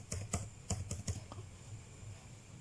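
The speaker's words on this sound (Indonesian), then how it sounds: "Ini langsung kita ketik saja" Numbers being entered on a computer keyboard come as a quick run of close, crisp keystrokes, about eight taps in the first second or so, then quiet.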